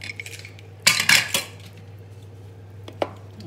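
A metal lid lifted off a cooking pot in a home kitchen after boiling potatoes and peas for a Punjabi curry, giving a loud clattering scrape and clinks, then a single faint clink near the end, with no talk.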